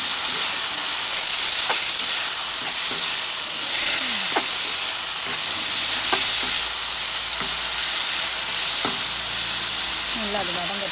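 Semiya with vegetables frying and sizzling in a pan, a steady hiss broken by occasional scraping stir strokes, close and continuous with no talk.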